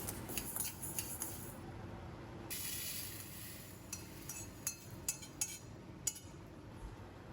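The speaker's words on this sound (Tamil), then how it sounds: "இப்போ ஒரு தட்டில் நம்ம தனியாக எடுத்து வச்சுக்கலாம்." Roasted dal and spices for homemade idli podi are moved from a pan onto a plate with close metallic scrapes and a run of sharp clinks, with no talking.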